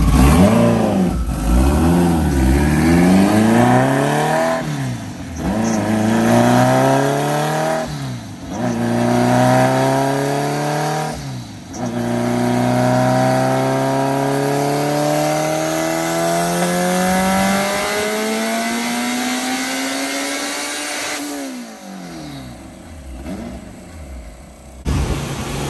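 A turbocharged Honda Integra making over 800 hp runs on a dyno, with loud, close engine revs rising and falling several times, then one long climbing pull that cuts off sharply, all without talking.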